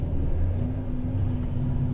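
A Volvo FH truck engine-brakes while downshifting on a steep descent of the Serra de Paranaguá. A steady, heavy low rumble drones from inside the cab without any speech.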